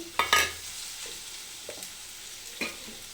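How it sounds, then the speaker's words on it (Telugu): Previously fried prawns are stirred into a curry pan with a spatula, giving a few sharp scrapes near the start and softer ones later over a quiet sizzle, with no talking. "ఇందులోకి మనం ఇందాకలా రొయ్యలు వేపుకున్నాం కదా, దగ్గర పెట్టుకున్నాం కదా, అవి ఇందులో వేసేసుకోవాలి"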